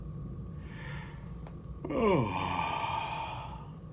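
A voice imitates a yawn, a slow drawn-out exhale with a falling pitch, preceded by a soft breath.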